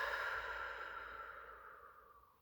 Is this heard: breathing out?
yes